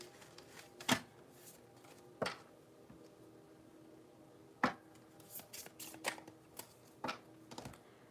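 Cards are shuffled in several quick riffling bursts, crisp and close, separated by short pauses.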